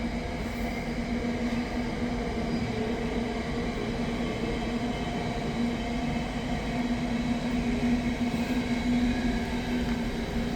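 Class 66 locomotive 66310 hauling a freight train through Nuneaton on the West Coast Main Line, a loud, steady rumble of engine and rolling wagons with a sustained droning tone throughout.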